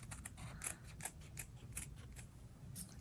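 Scissors snip through felt fabric for a fairy dress-up costume, giving a run of quick, close, crisp cuts in an uneven rhythm against a quiet background.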